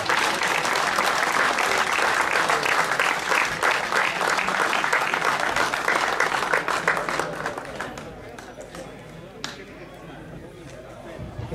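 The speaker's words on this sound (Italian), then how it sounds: "Un applauso a lei," Audience applause at a slalom event in Oppido Mamertina, dense and loud for several seconds before thinning out into scattered claps and quiet chatter.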